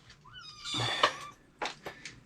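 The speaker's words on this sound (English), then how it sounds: "Your cat keeps jumping out." Kitten meowing inside a cardboard box in a garage, one drawn-out rising meow followed by two short, sharper cries, close and clear with no talk over it.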